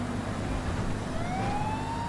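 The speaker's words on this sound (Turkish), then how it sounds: "Bak sireni çalınca herkes kenara gidiyor" A police car siren in GTA 5 wails with a slow rising sweep while driving into the city, sitting under a thick, steady wash of engine and traffic noise.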